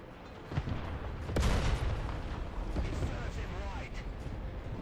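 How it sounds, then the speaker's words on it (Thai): Tank cannon fire in War Thunder from a Centurion Mk.5/1 (RAAC) aimed at stored ammunition, with a heavy boom near 1.4 s under busy battle rumble and faint talk in the background. "ผมจะยิงให้กระสุนที่อยู่ด้านหลังเขาระเบิด"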